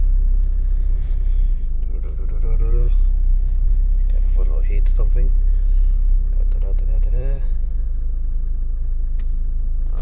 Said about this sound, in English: So I just will reverse here from my parking lot.